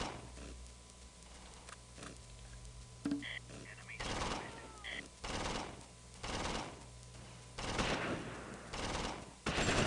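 Bursts of gunfire from the World War II strategy game Close Combat, Allied airborne troops against Fallschirmjäger in Normandy, arrive as several loud volleys spaced a second or so apart over a steady low background hum.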